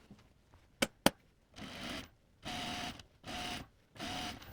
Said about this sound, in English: And then we'll edge stitch the hem.